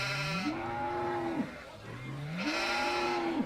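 Farm animals in Farming Simulator 2017 on a Cass County farm: two long, drawn-out lowing calls, nearby and clear, with steady ambient background and no talk.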